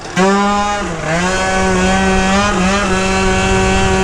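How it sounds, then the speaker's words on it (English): Whining straight-cut gears on a Malaguti Phantom F12 race scooter, a loud steady high-pitched drone with a slight dip in pitch partway through, heard alone up close. "Oh, I forgot about the straight cut gear sound on this too."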